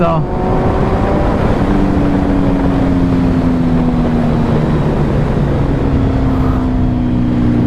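A Kawasaki Z900 motorcycle with a LeoVince full exhaust system and ECU tune blips and then settles into a loud, close, throbbing engine note with a slowly falling pitch that continues without a break.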